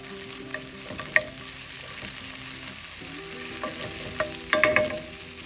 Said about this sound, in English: want to cook this for a few seconds in your oil, just to release that aroma from the shallot